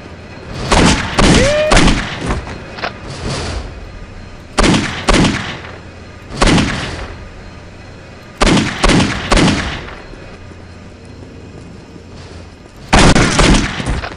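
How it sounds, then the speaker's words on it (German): Machine gun fire in the video game Postal 2: several loud, close bursts of rapid shots separated by short pauses, with sharp attacks and brief decays, the last burst arriving after a longer gap. "Oh, mein Maschinengewehr wieder."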